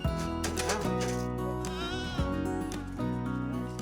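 Goats used for native plant revegetation in Australia bleat repeatedly, several wavering, nasal calls close by, overlapping one another with brief gaps between.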